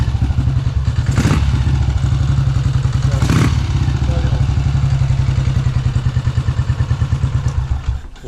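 1967 BSA motorcycle engine ticking over after a kickstart, a close, loud, steady rhythmic thump with a couple of sharp clatters and occasional voices.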